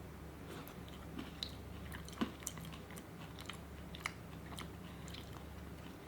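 Someone eats a McCain Street Fries frozen meal, with faint, close chewing and occasional soft crunchy bites over quiet room noise, no talking.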